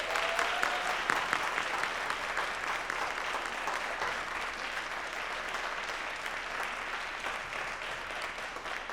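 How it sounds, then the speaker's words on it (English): Applause from the audience at the close of a school debate: a burst of many hands clapping, strongest at the start then settling into a steady, moderately quiet patter that continues throughout. "Let's give them both a round of applause."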